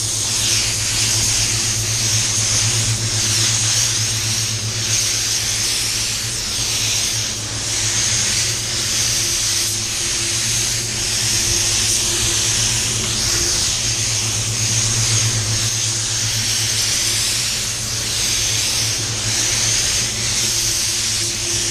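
Steady broadband hiss of a spray gun laying a clear coat over silver-tipped paintwork, continuous and close with a low compressor-like hum beneath, no breaks for the whole stretch.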